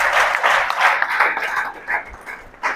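Students in a class 9th/10th coaching-centre classroom break into a burst of clapping. The applause is near and fairly loud, then thins out unevenly toward the end.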